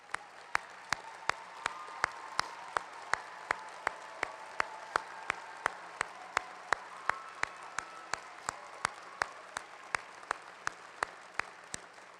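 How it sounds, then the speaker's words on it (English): Audience applause for the faculty at an ArtCenter graduation ceremony, heard faint and distant as a soft, continuous clatter punctuated by sharp, evenly spaced clicks. "please join me in a round of applause and acknowledgement of our faculty"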